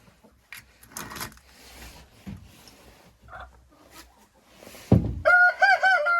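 A broody hen in a henhouse gives soft, scattered clucks and rustles near the nest, then a louder burst of harsh, rhythmic clucking toward the end.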